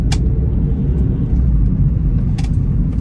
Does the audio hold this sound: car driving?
yes